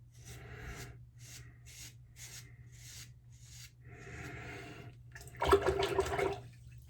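A Defender razor scrapes through stubble in a series of short, rasping strokes close to the microphone, with brief pauses between strokes and a louder burst of running water near the end.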